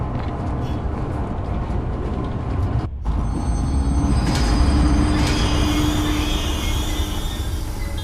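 A video game train rumbles steadily along with a continuous low roar and faint metallic squealing, loud and close throughout, with a brief dropout partway through.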